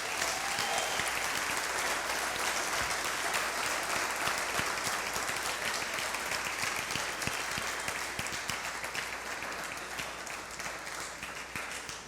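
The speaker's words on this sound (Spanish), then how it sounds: "¿Le podemos dar un aplauso fuerte al Señor?" A church congregation bursts into sustained, vigorous applause, a thick wash of many hands clapping that carries on for about twelve seconds and tapers only a little toward the close.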